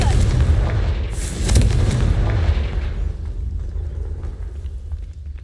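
A fire spell blast in the Hogwarts Legacy video game lands as a deep, booming explosion that rumbles on and slowly fades over several seconds.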